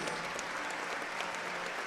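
A crowd at a high school wrestling dual meet applauds the third-place wrestlers on the podium, a steady, even wash of many hands clapping throughout, moderately loud and somewhat distant.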